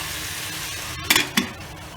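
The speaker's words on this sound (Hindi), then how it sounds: "इसको मिक्स कर देंगे और 1 मिनट तक इसको अच्छे से भूजेंगे" Vegetables for masala pulao sizzle softly in a pressure cooker, with two quick metallic clanks of a stirring spoon against the pot over the steady frying hiss.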